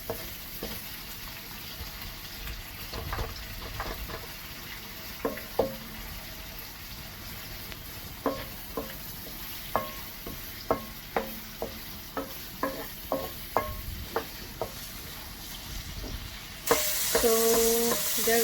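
Cabbage stir-frying in a pan for a vegan recipe, a steady loud sizzle broken by repeated sharp scrapes and clacks of the utensil being tossed through the vegetables, with a louder hiss near the end.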